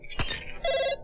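A telephone rings in a brief, clear burst of bell tones, close and alone.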